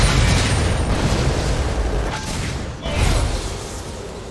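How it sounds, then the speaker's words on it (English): A turret collapses in League of Legends with a loud, sustained explosive boom and rumbling debris that fades briefly, then surges again in a second crashing burst. "Blue team's turret has been destroyed."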